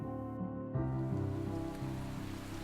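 Steady rain falling in the muddy trench battlefield of the game Valiant Hearts, a dense continuous hiss with low rumbling underneath and no speech.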